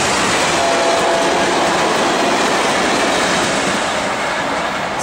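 An Amtrak passenger train roars past close by in North Carolina, a loud continuous rush of wheels and rail noise with faint clicking, steady throughout.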